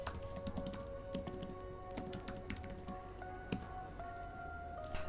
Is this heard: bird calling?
no